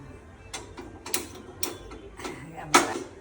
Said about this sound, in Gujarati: હવે ચાલુ કરીએ ગેસ